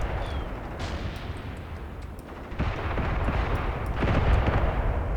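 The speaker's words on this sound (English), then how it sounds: "I think you're being engaged by the enemy's guns in the distance." Enemy guns firing from a distance in the Graviteam Tactics war game, a muffled rumble of far-off shots and booms that thickens into denser firing toward the end.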